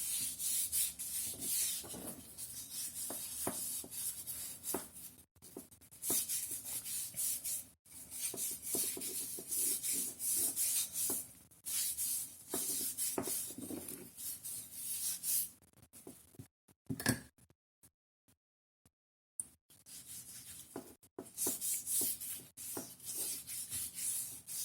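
Oil being rubbed by hand into a wooden handle of a REGAD ADECE machine, a close continuous rubbing and scrubbing with brief pauses and a short silent gap, no talk.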